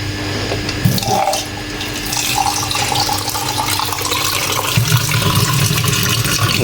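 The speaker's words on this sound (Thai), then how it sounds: "แล้วก็น้ำจากเครื่องกรองน้ำนะครับ" Water runs steadily from an Astina AP-575RO75GPD reverse-osmosis water filter tap, a continuous close-up pouring and splashing stream that keeps going for several seconds with no talking.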